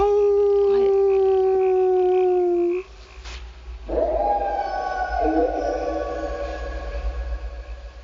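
A long, steady howl imitating a wolf is followed after a brief pause by a real wolf answering with a rising, wavering distant howl, the two calls clear and sustained against low background hum.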